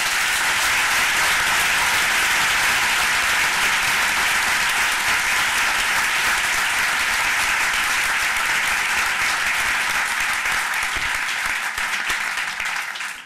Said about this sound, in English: I'd like to begin this part of the program with a round of applause for our distinguished panel and our four finalists